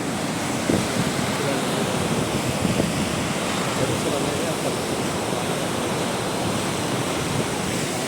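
Steady, loud roar of water rushing through the open gates of Prakasam Barrage, Vijayawada, fills the whole stretch, a dense continuous wash with no breaks.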